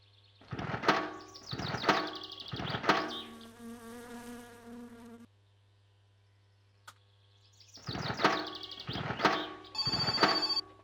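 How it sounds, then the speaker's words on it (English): A phone in the My Summer Car video game rings in repeated buzzing bursts of three, with a pause before the ringing starts again, loud and close with no talk. "of course the phone rings"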